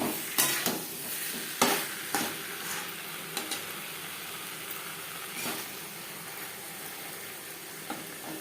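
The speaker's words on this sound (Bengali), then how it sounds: "চিকেনের সাথে আলু বেশ ভালো করে মিক্স করে দেবো" Chicken and potatoes being stirred in a hot frying pan: a steady sizzle with irregular scraping strokes and occasional sharper clacks of the spoon against the pan, close up with no talking.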